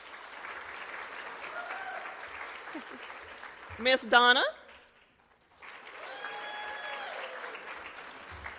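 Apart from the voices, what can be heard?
audience applause for TAs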